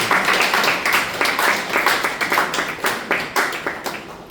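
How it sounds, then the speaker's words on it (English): A symposium audience at CPUT applauds, a close crowd of hands clapping in a lively, somewhat rhythmic patter that gradually thins toward the end. "I want to applaud you one more time"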